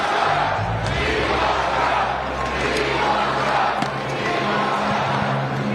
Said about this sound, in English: let's take a live listen right now as the crowd is getting lively here in Manchester